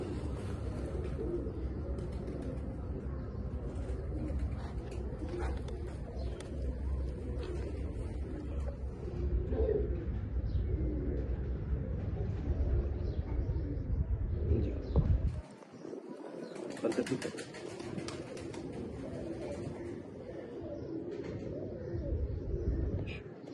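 Slate Bichu and Dub breed pigeons cooing in a loft, soft repeated coos over a steady low background hum, with a brief drop in the noise partway through before the cooing resumes.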